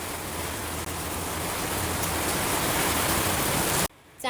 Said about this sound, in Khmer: និយាយទៅនៅភ្នំពេញភ្លៀងខ្លាំង